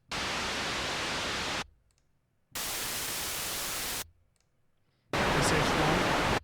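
Sampled analog synth noise in SynthMaster 3 plays as three bursts of dense hiss, each about a second and a half long with short silences between, the last burst brighter and louder.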